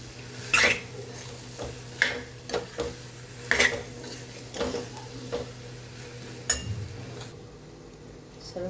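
A spoon scrapes and clinks against a pan as dry potato sabzi is mixed, irregular metallic knocks and stirring strokes at close range over a low background hum.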